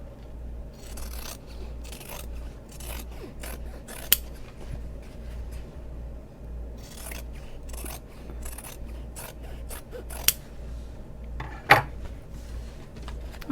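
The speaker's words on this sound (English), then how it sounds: "Now I will trim these edges." Scissors trimming the fabric edges of a sewn bag, heard close up as a series of crisp snips and rubbing cuts at an uneven pace over a quiet room, with no talk.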